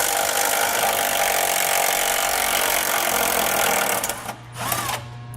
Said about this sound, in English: We're going to use a 13mm socket to remove the single bolt holding the hanger in place.